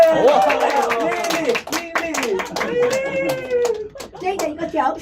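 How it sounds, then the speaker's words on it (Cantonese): Hands clap in brisk, scattered bursts while lively voices, including children's, talk and cheer loudly over them at a group gathering. "你哋嘅掌聲，你哋嘅歡呼聲係俾我們向前嘅動力"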